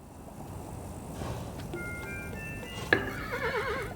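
Horse neighing in the video game Kingdom New Lands, a short whinny rising out of steady ambient game noise midway, followed by wavering tones and light clip-clop.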